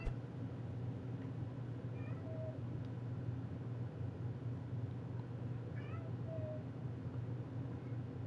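A house cat gives a few short, faint meows indoors over a steady low hum of background noise, spaced a few seconds apart.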